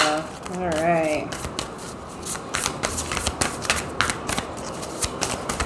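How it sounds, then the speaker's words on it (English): Tarot cards shuffled by hand in a dense run of crisp riffling snaps and soft slides, with a voice talking over the start. "One more shuffle."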